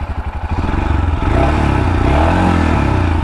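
A Royal Enfield Himalayan motorcycle is ridden: the single-cylinder engine thumps with a distinct pulse at first, then it accelerates into a loud, steady drone with a deep exhaust note, close and continuous.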